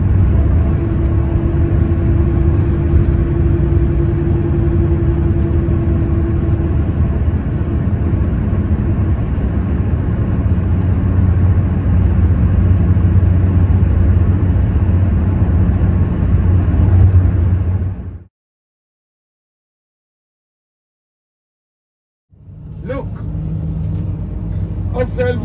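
Idling bus engine in a parking lot, a loud steady low rumble running continuously for about eighteen seconds before cutting out, then resuming briefly near the end.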